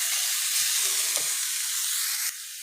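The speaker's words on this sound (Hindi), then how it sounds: "अब इनको अच्छी तरह मिक्स कर लिए ताकि हमारा प्याज और गाजर अच्छी तरह नमक और मिर्च के साथ भुन जाए।" Onion and carrot fry in a pan with salt and chilli, giving a steady, close hissing sizzle that runs throughout and drops slightly near the end, with no talk.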